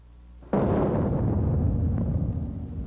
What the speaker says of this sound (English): The M16 is readied and fired.